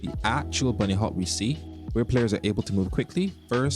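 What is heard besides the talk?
No everyday noise stands out behind the speech.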